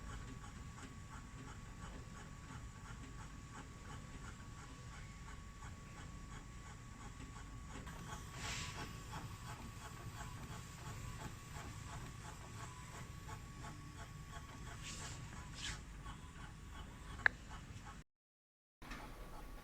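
A 30cm DTF printer runs a test print, giving a faint, steady mechanical hum with light repeated ticking, a few brief louder clicks and a short pause near the end.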